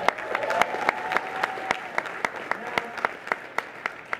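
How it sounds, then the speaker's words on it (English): An audience claps enthusiastically with crisp, rapid hand claps, a few standing out sharply above the rest, and some voices in the background. "Everybody give him a round of applause for that."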